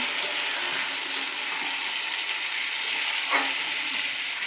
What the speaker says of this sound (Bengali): মশলাটা দিয়ে ভালো মতো কষাবো